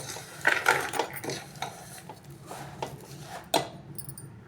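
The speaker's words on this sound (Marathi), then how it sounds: "आता पळीच्या साह्यानं आपल्याला चांगलासा मॅश करून घ्यायचं आहे" A metal ladle mashing banana with sugar in a bowl, giving irregular clinks and scraping knocks against the dish, close and moderately loud with no voices.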